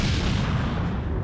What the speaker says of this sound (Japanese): なんだ今の爆発は。